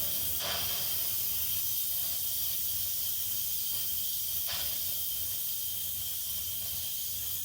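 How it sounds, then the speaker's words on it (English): Steam vents from an Instant Pot pressure cooker in a continuous, even hiss that holds steady from start to finish, close and moderately loud, with a couple of faint clicks. "You want to let that pressure release naturally for about 5 minutes"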